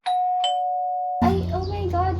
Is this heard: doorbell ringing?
yes